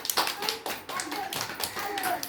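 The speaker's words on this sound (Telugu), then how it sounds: "క్లాప్స్ కొట్టండి అందరూ" A group of children clapping their hands in a classroom activity, a run of uneven sharp claps over about two seconds, with voices talking over them.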